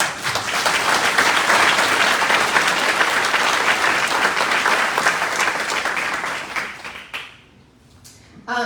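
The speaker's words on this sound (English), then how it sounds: "we want to give all of those students a very large round of applause" An audience at a Top Teacher ceremony gives students a big round of applause, dense and loud clapping that swells, holds for several seconds, then fades away before a speaking voice returns at the end.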